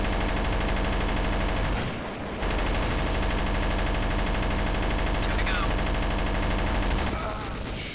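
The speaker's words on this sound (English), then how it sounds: "The wood pelting noise as all the bullets hit the wood." Long sustained automatic fire from an M249 in Counter-Strike: Source, bullets pelting wood in a loud, dense continuous rattle with a brief dip partway through, voices faint beneath.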